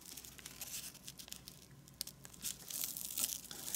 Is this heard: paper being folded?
yes